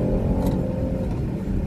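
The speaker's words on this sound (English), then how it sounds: "the throttle is very responsive in the Chevy Blazer" A 2019 Chevy Blazer's V6 engine pulls under acceleration, heard from inside the cabin as a steady low rumbling drone that holds loud and even.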